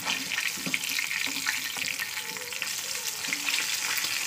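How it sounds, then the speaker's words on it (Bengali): An egg fries in a home kitchen pan with a constant crackling sizzle and faint scraping of a spatula, fairly close and steady throughout; no talking. "দেখুন আমার ছেলে কীভাবে ডিমটা ভাজা করে"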